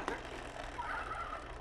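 Fisher-Price See 'n Say pull-string toy playing a chicken sound, a faint, slightly tinny recorded fowl clucking and gobbling for under two seconds, with no talk over it.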